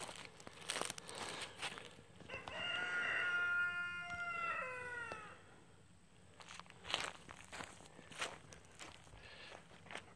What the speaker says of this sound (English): Roosters.